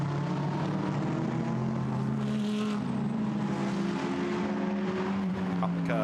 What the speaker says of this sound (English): Lee Mole is ahead for the moment as they come up towards the chicane, but Kogai wants that place back